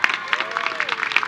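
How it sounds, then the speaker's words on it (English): An audience claps at a university new student convocation, giving a brief, dense burst of applause from a crowd. A voice is heard over it. "please stand to receive our applause"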